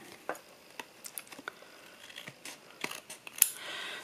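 Scissors snip along the edge of a lemon-themed handmade paper card, giving a run of quiet, irregular close-up cuts and clicks with a sharper snap near the end.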